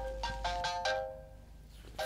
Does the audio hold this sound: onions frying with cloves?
no